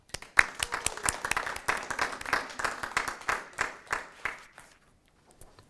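Graduates and guests applaud at a university completion ceremony, a lively burst of clapping that swells quickly, holds steady, then thins out to a few scattered claps.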